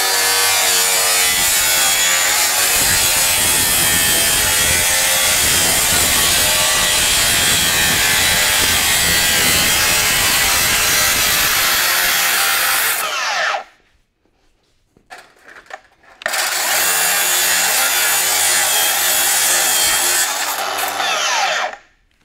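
A DEWALT FLEXVOLT 60V 9-inch cordless cut-off saw rips through a bundle of wood studs in a loud, continuous grinding cut lasting about thirteen seconds, then falls briefly quiet before a second long cut starts up and runs nearly to the end.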